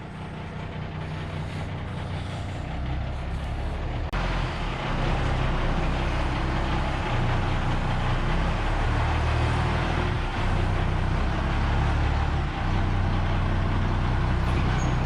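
A hay delivery truck's engine runs steadily after starting, a loud, close, deep rumble with a throbbing low drone that settles into an even idle.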